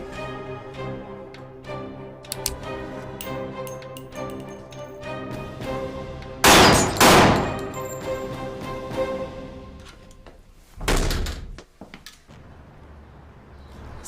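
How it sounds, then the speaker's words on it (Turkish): Two sharp, loud bangs ring out a few seconds apart over a tense music bed, each a sudden broadband blast with a short decay. "silah sesi."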